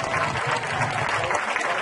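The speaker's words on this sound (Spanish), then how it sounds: "Un aplauso para su hijo." A crowd claps at a road inauguration ceremony, welcoming a visitor's son. Dense, lively applause holds steady across the short stretch with no voices over it.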